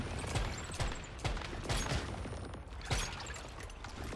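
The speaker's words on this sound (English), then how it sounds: "oh my god, I need to reload." Gun reloading in the video game Once Human during a hard solo boss fight: dense mechanical clacks and rattles over loud, continuous game noise with rhythmic thumps, no talk.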